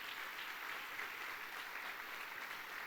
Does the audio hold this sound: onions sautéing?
no